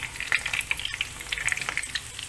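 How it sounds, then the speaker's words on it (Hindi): Eggs frying in a pan for egg korma, a close crackling sizzle with rapid spitting pops, moderately loud and steady, no speech. "जब हमारे अंडे लाइट ब्राउन हो जाएंगे तब तक हम इसको फ्राई करेंगे।"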